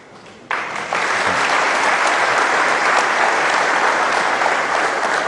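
Sustained applause from the audience at a talk in Caracas, rising suddenly to a dense, loud wash of clapping that holds steady throughout with no voices over it.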